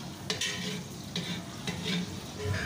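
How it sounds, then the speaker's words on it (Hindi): Half a kilo of sliced onions sizzle and fry in a pot while browning, steady crackling with a few clear stirring scrapes, close by and fairly quiet, no talking. "1/2 kg हमने प्याज शामिल कर दिया है और इसको हम ब्राउन कर लेंगे।"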